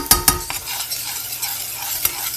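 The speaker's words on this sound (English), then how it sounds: "At this point, we are ready to add garlic. I'm saying saute that" Garlic sautéing in a pan while preparing a Thanksgiving dish: a steady close sizzle with a few sharp scrapes and clinks of stirring near the start and again later, no voices.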